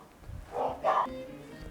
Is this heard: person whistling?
no